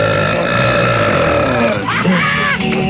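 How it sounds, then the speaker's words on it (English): A long, loud, close belch rumbles with a coarse, gravelly texture, a man's deliberate burp in a radio studio, ending with a short grunt. "Nobody wants to hear you talk, just belch."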